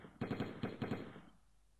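Gunfire in the video game Abuzittin 3: a quick rapid burst of about eight automatic shots, close and punchy, ending in a short fading echo with no talking.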